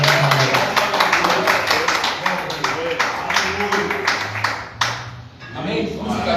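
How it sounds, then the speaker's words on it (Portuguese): A church congregation at a Christmas service claps loudly in a fast, rhythmic beat, with voices and music running underneath, before the clapping breaks off and fades near the end. "Vamos aplaudir bem forte a palavra do Senhor."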